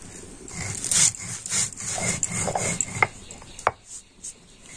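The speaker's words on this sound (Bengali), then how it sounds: "আচারের মশলা তো খুব বেশি কিন্তু একেবারে মিহি করে গুঁড়ো করার দরকার নেই" Spices for a raw mango pickle being coarsely ground: a steady run of dull rhythmic thuds with light metallic clinks, close and moderately loud, with no talking.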